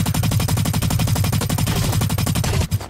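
Automatic gunfire in the video game Blacklight: Retribution, a loud, fast, evenly spaced stream of shots that runs almost nonstop before a brief break near the end.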